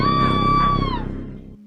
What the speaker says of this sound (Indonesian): Dari ponselnya terdengar suara teriakan ibunya yang lagi diserang zombie